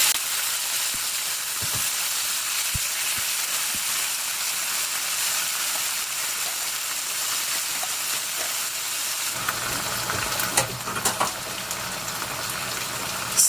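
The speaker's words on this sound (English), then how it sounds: "now that our onions are nice and caramelized, we are going to add in the whole peeled tomatoes" Whole peeled tomatoes and their juice hit a pan of caramelized onions, giving a steady, loud frying hiss throughout, with faint stirring and clinks toward the end and no talking.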